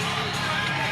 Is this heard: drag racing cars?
no